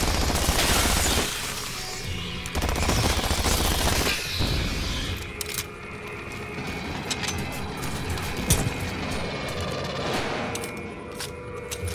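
Sentry guns blaze in the sci-fi shooter Aliens Fireteam Elite, a dense, continuous volley of rapid automatic gunfire with sharp cracks and clatter running loud throughout, mixed with battle noise.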